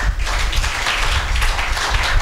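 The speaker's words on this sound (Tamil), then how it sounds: "கைத்தட்டு பார்ப்போம்." A church congregation clapping their hands together at a Tamil Christian service, a dense continuous patter of many hands, loud and fairly even throughout.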